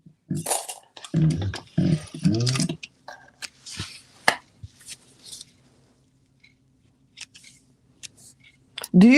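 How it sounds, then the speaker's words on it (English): Scissors snip the corners of sewn fabric in a few close, quick cuts, following talk at the start and set against near silence, with speech returning at the end. "I'm just trimming the corners"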